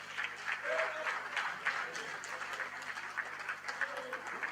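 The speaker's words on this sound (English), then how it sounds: "Let us recognize them, give them a round of applause." Faint, distant applause from an audience honouring union delegates at a national secretariat event, a thin scatter of claps lasting a few seconds with brief voices murmuring underneath.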